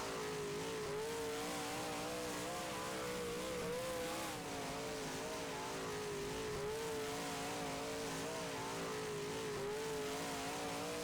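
Sportsman modified race car on the oval at Outlaw Speedway in rFactor, its engine droning steadily at a constant, slightly wavering pitch, loud and close throughout without a break.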